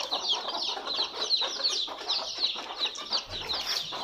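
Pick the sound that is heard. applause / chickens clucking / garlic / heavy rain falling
chickens clucking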